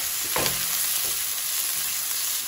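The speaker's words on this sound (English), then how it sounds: "Give it a mix." Filipino pancit noodles with garlic, cracked black pepper and canned peas fry in a pan with a steady, close sizzle, broken by a spatula stirring stroke early on.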